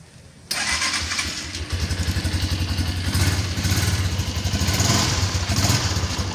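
Motorcycle engine cranked by its electric starter, catching after a short moment and settling into a close, loud, throbbing idle with a steady rhythmic pulse, no talking.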